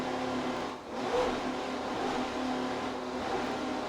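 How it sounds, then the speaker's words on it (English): An offshore racing powerboat engine drones steadily at speed during a race, a strong mid-pitched roar with a brief dip and surge, heard from on board. "Just listen to the boat run."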